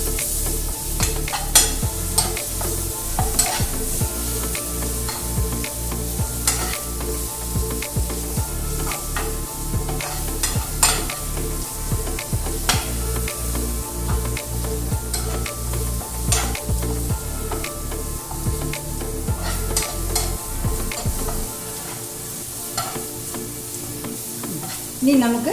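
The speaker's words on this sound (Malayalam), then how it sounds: "ഇത് നന്നായിട്ട് രണ്ടും കൂടി വഴറ്റി ഇതിൻ്റെ പച്ച വാസന പോകുന്നവരെ വഴറ്റി കൊടുക്കണം." Onion and ginger garlic paste sauté in a pan with frequent spoon knocks and scrapes against the metal over a continuous close sizzle, with no talk, and the sizzle thins out near the end.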